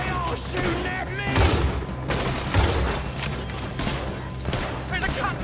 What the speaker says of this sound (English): Why are they all shooting at me?